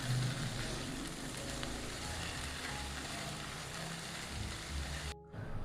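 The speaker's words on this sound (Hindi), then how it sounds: "लहसुन अदरक को भी फ्राई करेंगे प्याज के साथ" Garlic-ginger paste frying with onions in a pan for chicken samosa filling, a steady loud sizzle with crackling spatter throughout, briefly dropping out near the end.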